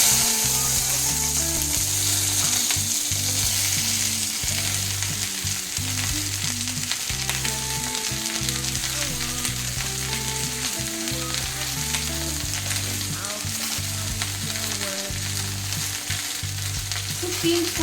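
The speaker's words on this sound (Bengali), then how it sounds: "এই ঢ্যাঁড়সগুলো কিছুটা ভেজে নেব।" Okra (vendi) half-fries in a hot pan with a dense, steady sizzle throughout. Rhythmic stirring clatter and scraping sound over it, loud and close.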